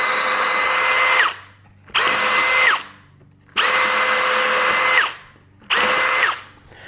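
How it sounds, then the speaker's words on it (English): A power drill pre-drills hinge holes in a shaker-style cabinet door, with four loud whirring bursts, each winding down before a short pause. "So what we'll do is we'll pre-drill those."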